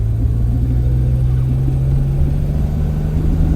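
A 1982 DeLorean's engine drones steadily and loudly from inside the car while driving, a constant low hum with a slight rise in revs and no voices.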